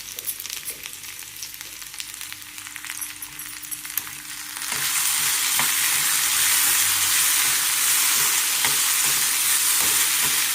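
Garlic sizzles in a pan for a village-style potato and onion zunka, first as a quieter crackle with clinks of stirring, then swelling into a loud, steady hiss that carries on to the end with occasional scraping taps.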